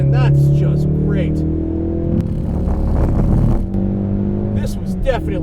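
A Mountune-tuned Ford Focus RS is driven hard around a race track, its engine droning loudly and steadily with rising and falling revs, while someone talks over it.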